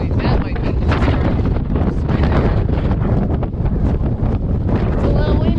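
Strong, steady wind roars across an exposed mountain ridge above tree line near Boot Spur and Glen Boulder, buffeting the microphone loudly and continuously throughout with no break.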